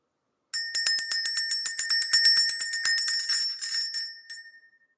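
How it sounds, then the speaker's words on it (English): A bell rung in a rapid series of about twenty bright metallic strikes, loud and close with ringing overtones, the strokes running together before slowing into a couple of final hits and fading out. "Let's go ahead and ring the bell."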